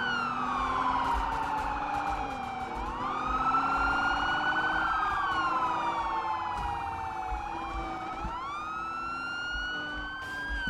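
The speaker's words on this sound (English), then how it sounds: "So many sirens!" Police sirens in the Roblox game Emergency Response: Liberty County, several wailing tones rising and falling and overlapping continuously, loud and close over a low engine hum.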